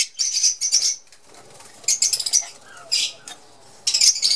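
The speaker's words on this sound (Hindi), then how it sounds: "बर्ड भी वैसे वैसे ज़्यादा तेज़ी से शोर करना शुरू कर देते हैं" Caged lovebirds let out bursts of sharp, shrill squawks and flapping wings close by, coming in several loud clusters separated by short quieter gaps.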